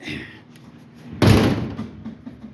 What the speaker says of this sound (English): Slam the hood, glove box door falls open.